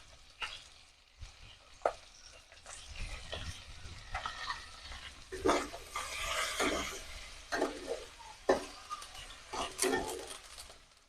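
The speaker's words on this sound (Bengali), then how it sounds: "এবার এটা একটু ভাজা ভাজা হবে।" Chili powder and spices frying in a pan for garlic rohu, with steady sizzling broken by louder bursts of stirring and scraping, close and busy, no voices.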